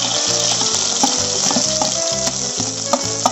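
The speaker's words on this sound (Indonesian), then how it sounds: "Jadi kalau minyak itu kena air kayak gini nih, muncrat-muncrat." Hot oil in a pan spatters and sizzles where water hits it while cooking gulai asam pedas. There is a loud continuous crackle with pulsing bursts of popping, close up and without speech.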